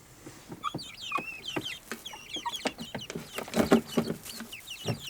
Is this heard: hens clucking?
yes